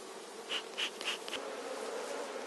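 Honeybees buzz softly around an open hive during queen grafting, a low, steady hum with a few brief, louder passes as single bees fly close.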